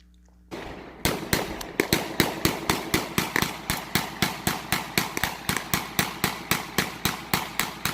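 A Kel-Tec CP33 pistol firing into a hillside outdoors. After a brief quiet start comes a long, loud string of about two dozen sharp shots at a fast, even pace, each followed by a short decay, with no talking.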